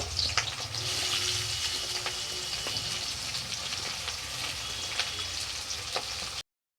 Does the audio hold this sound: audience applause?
no